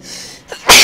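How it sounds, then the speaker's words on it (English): One sharp, loud human sneeze bursts out close by after a brief in-breath, a short explosive hiss ending the moment. "I got the sneezes."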